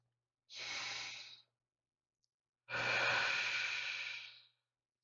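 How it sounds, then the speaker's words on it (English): Two slow, deep breaths during a guided meditation: a shorter airy exhale followed by a longer, fuller breath, close and breathy, with silence between and no speech. "let's breathe"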